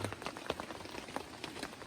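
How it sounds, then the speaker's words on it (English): Rain patters steadily on a tarp strung over a hammock at a wild camp, a dense close drumming of individual drops with no talk. "I woke up to the rain"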